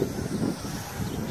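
Steady wind buffeting the microphone at a construction yard gate outdoors, a low rumbling roar that holds constant throughout with no voices.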